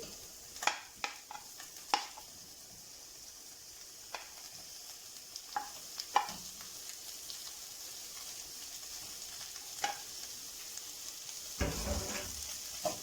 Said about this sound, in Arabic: هنزل دلوقتي بالسجق